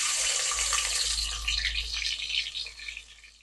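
Chopped onions hitting hot oil in a pan for mutton curry, a steady bright sizzle and crackle that holds loud and continuous, tapering slightly toward the end.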